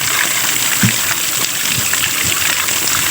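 Water gushing steadily from a free-flowing natural spring in a cool rural spot, a constant loud rushing wash with a few faint low bumps and no talking.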